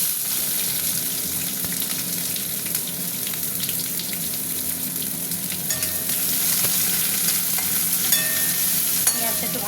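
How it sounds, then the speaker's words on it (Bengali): Onion frying in hot oil with dried red chillies and bay leaves in a home kitchen, a steady close sizzle with stirring clinks running throughout, growing slightly louder in the second half. "পেঁয়াজটা একটু ভাজা ভাজা হোক"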